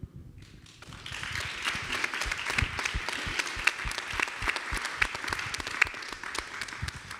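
An audience at a talk on Fisk University's opera legacy breaks into applause, dense clapping that builds after a quiet first second and holds steady for several seconds, moderately near.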